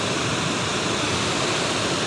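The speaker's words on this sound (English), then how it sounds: "Hopefully you can hear me over the waterfall." Gardener Falls waterfall pouring in a steady, loud, broadband rush heard up close and unbroken, with no voices over it.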